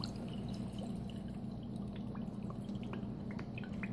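Worcestershire sauce pouring and dripping into a ground meat patty mixture for Salisbury steak, a soft, quiet liquid trickle with small drips over a low steady background hum.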